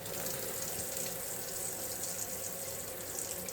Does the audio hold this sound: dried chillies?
no